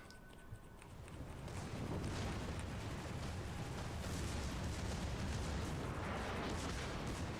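A warship's main battery guns fire in a naval video game, a rumbling barrage that swells after a second and then holds as a dense, continuous roar of blasts.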